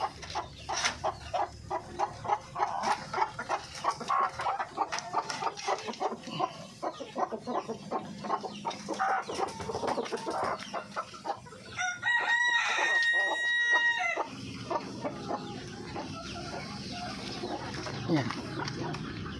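Darag native chickens on a breeder's farm cluck and chatter steadily under a voice, with a rooster crowing once loudly and close in the middle of the stretch.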